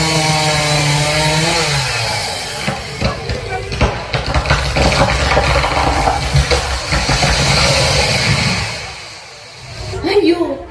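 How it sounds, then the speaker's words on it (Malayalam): A chainsaw sound effect for cutting a tree in a school eco-club skit buzzes loudly and steadily under children's voices, then cuts off near the end. "മരം മുറിക്കരുതേ"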